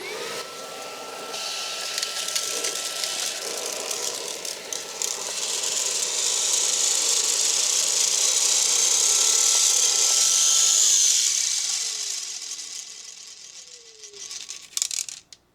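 A Makita XGT 40V cordless stick vacuum fitted with a narrow nozzle runs loudly and steadily, its whine rising as it sucks up screws that rattle through, ending with clattering as it winds down.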